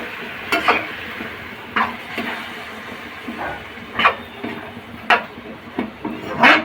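Pea cooking water poured into a pan of sizzling Bengali green pea ghugni, a steady low sizzle under repeated sharp metallic clinks of a spoon stirring against the pan, close and fairly loud, with no voices.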